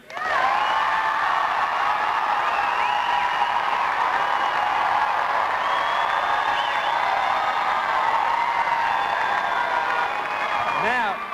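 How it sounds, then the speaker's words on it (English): An audience at a 1999 debate on whether the Olympics are overrated bursts into loud, sustained applause with cheers and whoops, a dense wall of clapping that holds steady for about eleven seconds. "please applaud with gusto on the count of 3"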